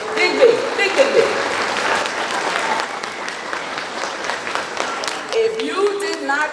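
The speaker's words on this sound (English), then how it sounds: "give her a big round of applause" Applause from a gala audience at a Jamaica 60 Diamond Jubilee celebration in New York, greeting the Consul General of Jamaica; steady, dense clapping runs throughout under a talking voice.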